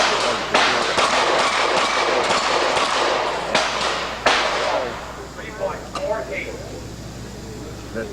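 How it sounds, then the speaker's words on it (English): Rapid gunfire at falling steel plate targets on an outdoor action shooting stage, a quick string of sharp cracks over the first five seconds, then sparser pings and softer sounds as the plates fall, with someone talking throughout. "Shooting falling plates."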